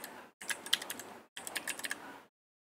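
Quick bursts of keystrokes on a computer keyboard as a username is typed, two close flurries of clicking separated by a short pause, then silence.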